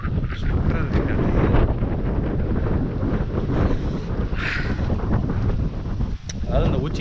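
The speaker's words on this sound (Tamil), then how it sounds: "சூப்பராக இருக்குது காற்று." Strong wind gusts buffet the microphone on a mountain trek near Coonoor, a loud, continuous rumbling roar that swells and dips throughout, with a voice talking over it.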